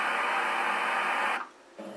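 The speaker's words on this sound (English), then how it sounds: "micro fan" A micro fan setting on a sleep sound machine gives a smooth, airy whooshing drone with a faint hum, steady until it fades, then restarts more quietly.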